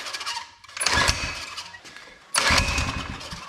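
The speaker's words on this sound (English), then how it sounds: "Moment of truth, see if this thing will fire up after sitting for years and years" An old mini bike engine with a fresh carburetor, left sitting for years, is pulled over and sputters toward starting. Rough, loud mechanical bursts surge twice, close up and without speech.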